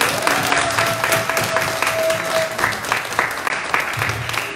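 A church congregation bursts into sustained, loud applause, many hands clapping together in a dense, steady roar that carries on for several seconds, with a few voices faintly mixed in.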